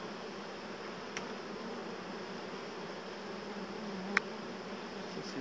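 Honey bees buzzing at an open beehive, a dense steady drone of many bees close by, with a couple of faint clicks from the hive frames.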